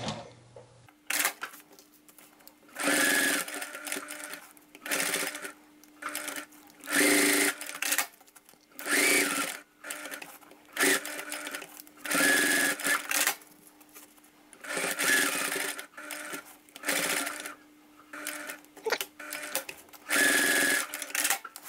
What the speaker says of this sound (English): I can sew around these little strap connectors.